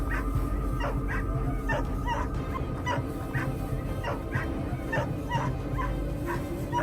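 Hunting dogs used to drive wolves from farmland in Minnesota bark and yip in a steady run of sharp, repeated calls over a constant noisy background.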